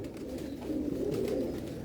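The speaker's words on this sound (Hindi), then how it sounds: "ये उड़े हुए कबूतर की माँ है।" Pigeons kept by racing fanciers, cooing in a steady low warble that swells and continues throughout, close by, with faint fluttering noise and no talk.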